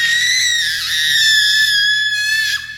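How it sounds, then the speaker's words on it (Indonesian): A boy named Dimas lets out a single long, shrill, piercing scream of terror, loud and close, sustained for nearly three seconds before breaking off, in a dramatized horror story. "Jeritanya membangunkan seluruh rumah."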